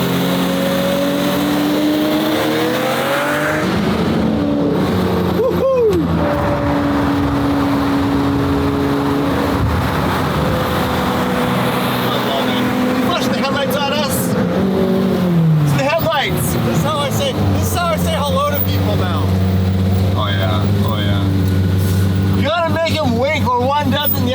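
A Lamborghini Murcielago engine idles and revs with a steady low rumble, rising briefly in pitch, while people talk over it nearby.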